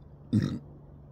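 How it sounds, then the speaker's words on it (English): A single short, close burp from a man, loud and guttural, lasting under a second over a quiet room hum. "excuse me, I burped."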